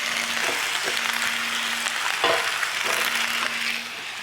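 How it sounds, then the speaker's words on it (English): Sliced potatoes sautéing in olive oil in a skillet give a steady, fairly loud sizzle, with a few soft stirring scrapes breaking through now and then. "I'm going to saute these until they get really soft"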